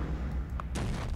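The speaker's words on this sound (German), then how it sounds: "sie schießen mit Kanonen" Cannon fire in the video game Die Siedler 5 (The Settlers 5): a brief boom with a sharp crack and rumbling tail, loud and close, alone.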